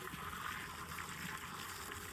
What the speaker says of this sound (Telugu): ఇప్పుడు బోర్ వాటర్ వేసి చూపిస్తాను ఫ్రెండ్స్ మీకు.